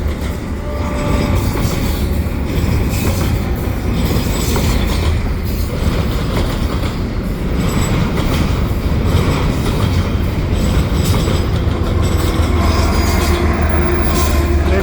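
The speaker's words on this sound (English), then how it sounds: "there's a Via train in the background there" A Via Rail passenger train rumbles past at Marshall Avenue, heard as a loud, continuous roar of wheels and rail noise with faint squeals and rhythmic clatter throughout.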